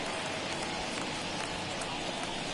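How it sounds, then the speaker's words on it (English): Steady rain hisses down across a ballpark in the baseball video game MLB The Show 21, a constant, even wash of sound with no break. "we've mentioned the conditions aren't ideal with the rain coming down"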